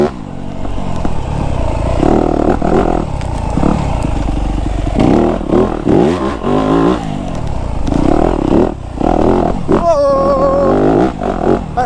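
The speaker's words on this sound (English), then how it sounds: "We're on the 2025 Yamaha YZ250F, of course, motocross bike, not the trail bike." A 2025 Yamaha YZ250F motocross bike rides a wooded trail, its engine revving and dropping repeatedly up close, loud and rasping with rhythmic throttle bursts.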